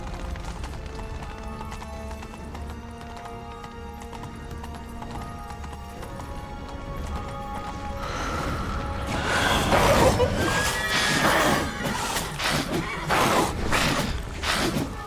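A horse gallops with steady hoofbeats that grow louder and busier in the second half, with whinnies mixed in, from the video game Witcher 3; no talk over it.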